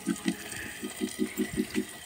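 Water running from a rubber hose in a village home kitchen while cooking goes on, heard as a close series of regular gushing pulses over a constant background, with no talking.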